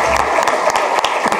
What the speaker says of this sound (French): On applaudit monsieur Deloignon.